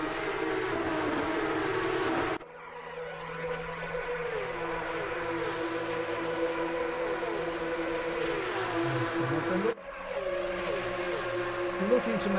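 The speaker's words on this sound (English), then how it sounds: "The sound of these cars coming through the chase is absolutely glorious." Porsche Cup race cars at Bathurst in a racing video game, with loud, sustained engine whine and gear changes, sharp cuts between cars passing up close, under talk.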